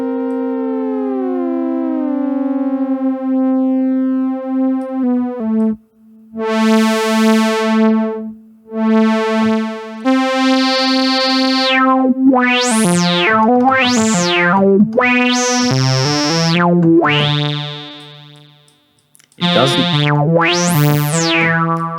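A GForce Oberheim SEM software synthesizer plays with raised sustain while its filter is swept, giving a loud, buzzy, raucous tone that rises and falls in siren-like sweeps across a series of held notes, with brief gaps and no voices.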